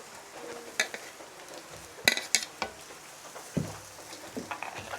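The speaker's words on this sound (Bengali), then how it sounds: "আমি পেঁয়াজ কুচিগুলো হালকা ভেজে নেব।" Chopped onions fry lightly in a pan with ginger-garlic paste for potato chops, a gentle sizzle under clinks of a metal utensil against the pan and intermittent stirring scrapes.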